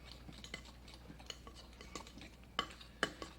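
Potatoes mashed and mixed with cream and butter using a fork, soft wet squelching and light scraping with a couple of sharper clinks against the bowl, close and quiet, no speech.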